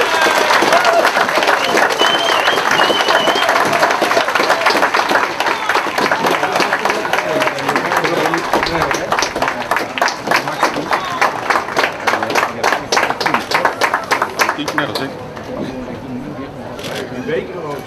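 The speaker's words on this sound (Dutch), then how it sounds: "Applaus!" A crowd applauds loudly and steadily at a Dutch royal honours ceremony, an appointment to the Order of Orange-Nassau, with dense clapping that thins slightly toward the end.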